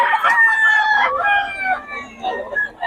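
A White Hatch gamefowl rooster crows loudly and close by, one long drawn-out call with a trailing tail, while a voice talks briefly around it.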